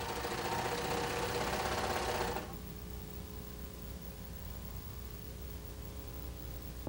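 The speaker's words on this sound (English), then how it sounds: "Lower the foot and sew about 1 inch, then sew off the edge and cut the thread chain." A Baby Lock Imagine serger stitches along fabric edge with a loud, steady mechanical whir for over two seconds, then stops, leaving a quiet hum and faint room noise.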